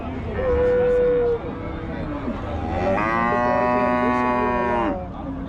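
Kangayam cattle at a cattle market in Minnampalli, Salem, lowing in two long, loud, drawn-out moos close by, with faint background chatter.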